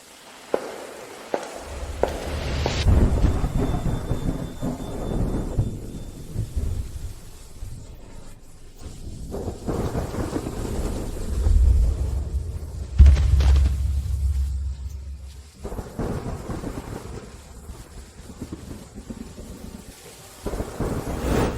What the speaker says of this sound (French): Comment marcher sous cette pluie torrentielle?